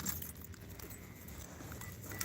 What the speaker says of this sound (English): Let me put the keys away.